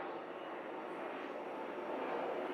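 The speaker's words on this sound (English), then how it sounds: "Helicopter, why is you flying around at 8 o'clock in the morning while I'm trying to record?" A helicopter flies overhead in the early morning, a faint, steady, distant whirring rumble that holds across the whole stretch with no talk over it.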